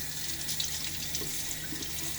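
Water running steadily from a bathroom tap into a sink for a final rinse after a wet shave, a close, constant hissing splash with no pauses.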